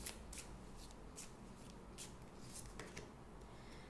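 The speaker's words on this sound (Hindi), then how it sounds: "That was a bad shuffle. Let's go again." Tarot cards being shuffled by hand, a quiet, steady riffling and sliding with soft flicks of card edges over a few seconds, close and faint.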